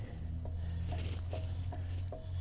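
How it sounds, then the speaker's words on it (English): Brake pads rubbing faintly on the rotors while a wheel spins, giving a soft rasping scrape that repeats in a steady rhythm about twice a second over a low mechanical hum; close, quiet, no talking. "the only noise you hear is just from the brake pads on the actual rotors"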